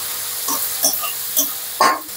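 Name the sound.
onion and garlic frying in a pan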